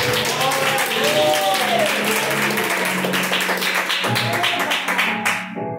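Loud applause from a church congregation, steady clapping mixed with voices and music, continuing for several seconds before fading at the end.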